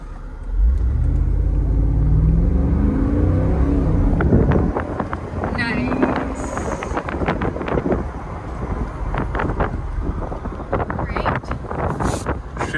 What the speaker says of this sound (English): I'm going to do a acceleration run for you guys.